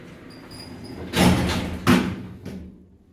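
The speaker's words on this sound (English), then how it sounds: "Doors closing." Lift doors in Portsmouth slide shut, giving two firm thuds less than a second apart and then a faint knock, against a quiet hum.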